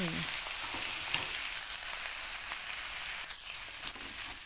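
Meat stir-fried with oyster sauce, chili sauce, soy sauce and sugar for fried rice, a loud continuous sizzle close by with light scraping of the spatula throughout, no voices.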